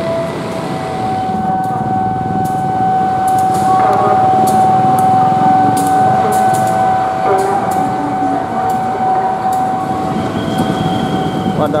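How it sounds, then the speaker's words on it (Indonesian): A train rumbles steadily in Pasar Senen station, Jakarta, with a sustained high tone and scattered clicks and knocks as it slows to a halt. "Keretanya berhenti."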